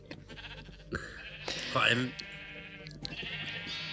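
A sheep in the Minecraft video game gives a short bleat near the middle, a clear wavering cry amid a player's nearby speech.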